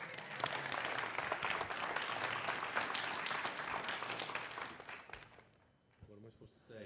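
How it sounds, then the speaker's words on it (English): Audience applause in a church service for a couple marking their 50th wedding anniversary, a dense, sustained burst of clapping that tapers off near the end, followed by a brief bit of talk. "So now you can clap."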